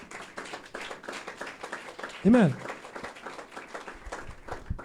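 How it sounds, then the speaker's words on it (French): A church congregation at an annual revival service claps for God, a dense rhythmic clapping under preaching and voices, with a loud sung or shouted exclamation in the middle. "On va battre applaudissement pour l'Éternel."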